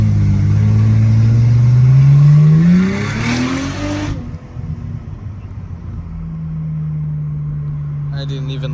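A 680 hp twin-turbo V6 Cadillac ATS-V accelerates hard, its loud engine note rising in pitch before cutting off abruptly, then settling to a steady lower drone.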